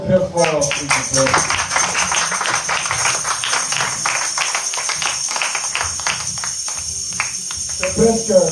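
A church congregation claps and applauds loudly for several seconds, a dense run of hand claps framed by brief voices at the start and end.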